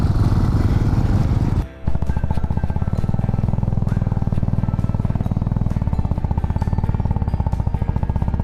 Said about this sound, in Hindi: और बहुत सारे बाइक्स उस तरफ से आ रहे हैं